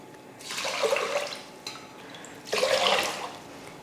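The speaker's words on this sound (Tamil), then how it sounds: "இப்போ தண்ணி ஊற்றிடலாம்." Water poured into a cooker pot onto washed rice in a home kitchen, a splashing gush in two bursts with a short break between, close and fairly loud, no talk.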